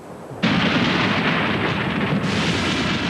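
Heavy thunder rolling from the storms of a dying hurricane over land, a loud sustained rumble that swells suddenly and keeps rolling without a break, with no voices.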